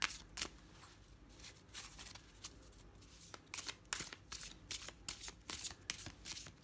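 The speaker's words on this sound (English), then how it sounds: "it's nice and thin, so it riffle shuffles really well" Tarot deck of thin cardstock riffle shuffled repeatedly, giving a run of crisp, close fluttering card bursts with soft pauses between shuffles, no speech.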